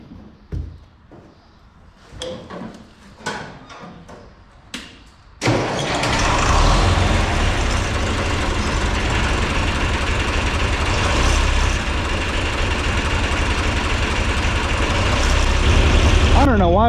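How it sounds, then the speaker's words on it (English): A warm diesel truck engine cranks and fires, then settles into a loud, steady low idle that runs on for a long stretch, after a few scattered knocks and voices at the start. "it'll start, because a warm diesel always starts better than a cold diesel"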